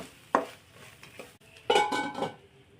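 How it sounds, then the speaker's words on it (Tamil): Soya chunks being stirred in a pan over a low flame, with two bursts of spoon-on-metal scraping and clinking close by, separated by quieter moments and no talk. "ஃப்ளேமை குறைச்சி வச்சு இதை நல்லா கிளறி விட்டுட்டு மூடி போட்டு வச்சிடலாம்"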